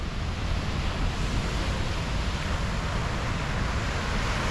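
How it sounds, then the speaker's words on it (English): Surf rolls steadily onto Mai Khe beach in Da Nang under a constant breezy wind, a dense unbroken wash of waves and wind noise filling the whole stretch with no voices. "it's nice and breezy by the sea itself"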